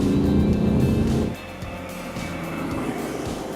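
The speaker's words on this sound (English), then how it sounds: "It's not so much a diesel clatter, but more a roar, and especially when you push the engine hard." Tata Tiago three-cylinder diesel engine roaring loudly under hard acceleration, a steady low drone that drops back to a softer, lighter hum after about a second and a half.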